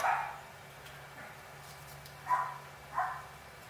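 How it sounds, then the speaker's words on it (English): Dogs barking from another room of a house, a few separate muffled barks spaced out against a quiet background. "They like to bark at everything."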